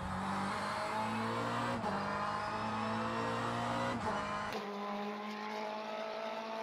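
Race car engine in the racing simulator rFactor 2, a loud sustained drone with steady harmonic tones that shift pitch at gear changes, dropping in the last seconds as the low rumble falls away.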